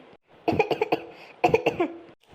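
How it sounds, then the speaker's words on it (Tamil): Two bursts of harsh, close coughing, each a quick cluster of several coughs, separated by a short pause. "இந்த இருமல் வேற சும்மா வந்துட்டுருக்கு."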